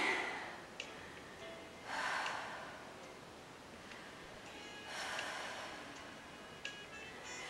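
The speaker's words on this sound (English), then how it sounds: "Breathing deeply." Slow, deep breaths during a Pilates leg stretch, two long airy exhales several seconds apart, quiet and close with soft rustling between them.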